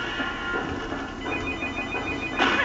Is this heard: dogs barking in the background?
no